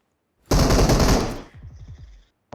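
Automatic gunfire in the video game PUBG Mobile: one loud, rapid burst lasting about a second, then fading echoes and a brief final shot, with no talk.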